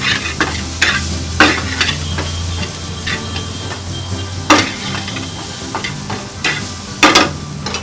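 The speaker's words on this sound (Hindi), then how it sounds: "इसको हम फ्राई करेंगे।" Capsicum, cabbage, carrot and onion fry in a pan at an omelette stall. A loud, steady sizzle runs throughout, punctuated by a dozen or so sharp scrapes and clatters of stirring at an uneven pace.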